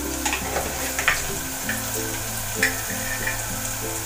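Garam masala and spices for a mutton curry sizzle and fry steadily in a pan, with a few soft stirring scrapes and a low background hum.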